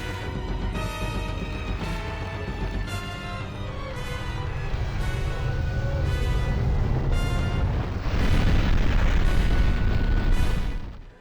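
The Armor Spider in Demon's Souls floods a tunnel with fire, a loud roaring rumble with repeated booming bursts, swelling near the end before cutting off.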